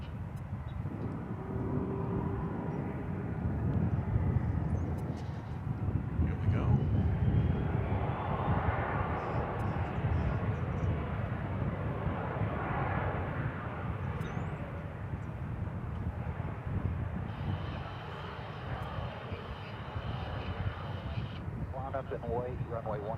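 Airplane taking off from a runway at DFW Airport on a mild, lightly windy afternoon, a steady loud engine roar rumbling and building for over twenty seconds, with a faint radio chatter tone near the end.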